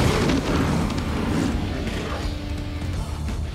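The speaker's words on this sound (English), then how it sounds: "An airstrike has been called." A deep rumbling airstrike explosion in Crisis Core Reunion, a heavy sustained boom with low roar that slowly fades over a few seconds, with no voices.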